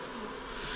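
Honey bees buzz around an Apidea mating box, a steady, dense, close hum that lasts the whole brief moment with no pause and no voices.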